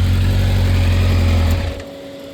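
A garage-kept 1986 Kawasaki Ninja 1000R motorcycle engine runs steadily and loud, then its sound drops away near the end, with no voices.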